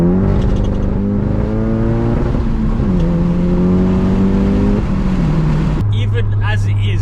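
A stage 3 Volkswagen GTI on a base tune accelerates hard under boost, its engine note climbing through the gears with short dips at each shift, loud and heard from inside the car.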